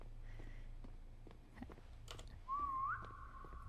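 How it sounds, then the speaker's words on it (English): A player's whistle in the Roblox game SCP 3008, set in an endless IKEA store after hours, rises then holds as a clear steady tone for about a second over a low constant game background hum. "There's a whistle."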